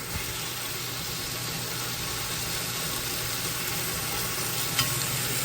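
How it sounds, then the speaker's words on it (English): Chicken sautéing in a pan makes a steady, dense sizzle that holds constant and fairly loud throughout, with only a faint tap near the end. "I'm just going to let it saute a minute like this"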